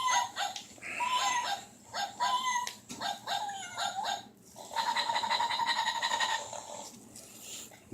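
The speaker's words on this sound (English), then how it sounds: "This boy loves his new puppy." A new puppy barks and yips in a string of sharp, high barks, then gives a longer whining cry near the end, close and fairly loud.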